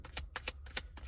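A tarot card deck being shuffled, with four quick, soft riffling bursts in an even rhythm, close and quiet.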